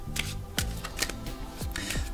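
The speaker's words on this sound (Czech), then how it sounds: "tak já si na to zamíchám karty" Tarot cards being shuffled by hand, several quick riffling bursts in an uneven rhythm, close and crisp with no talking.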